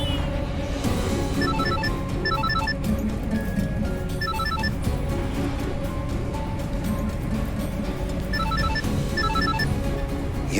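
A telephone rings in repeated short bursts of electronic trills in pairs, coming back again after a pause, over a steady background hum.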